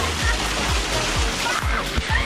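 Loud, steady roar of a waterfall at Devil's Cauldron in Baños, Ecuador, fills the clip with dense rushing water close by, broken by faint low thumps.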